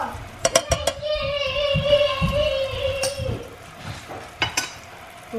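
A spoon stirs tamarind sauce for pad thai in a pan, with several sharp clinks against the pan, a soft sizzle under the scraping, and a sustained tonal ring in the middle of the clip.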